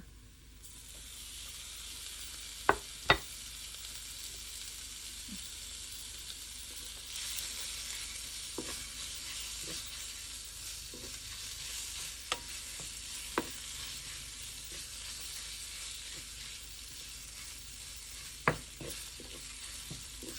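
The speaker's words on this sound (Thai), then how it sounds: "ผัดให้หมูสับมันสุกสักหน่อยหนึ่ง หอมมากทุกคน" Minced pork stir-fried in a pan as the base for nam ngiao pork-bone noodle soup, heard as a steady close sizzle and hiss with occasional sharp clicks of the spatula scraping the pan.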